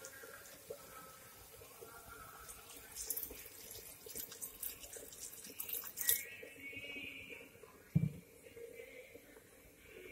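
Water poured into a cooking pot for a village-style pork curry, a steady close splashing and trickling stream running for several seconds with a few louder clinks near the end.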